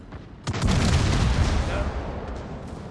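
A heavy boom from Musashi battleship guns in a naval warfare video game rolls out into a long, rumbling decay, loud and close, following a soft click.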